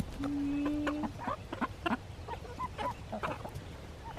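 Backyard chickens cluck and squawk in a quick irregular series of short calls while being fed fatty pork belly scraps, with a longer drawn-out note near the start and a low outdoor rumble underneath.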